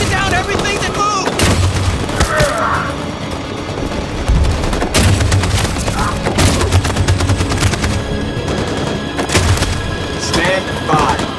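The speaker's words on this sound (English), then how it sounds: "That machine gun is taking down everything that moves!" Machine gun fire in a video game, Detroit: Become Human: loud, dense bursts of rapid automatic gunfire with heavy booming impacts and explosions in a chaotic battle, with shouted voices mixed in.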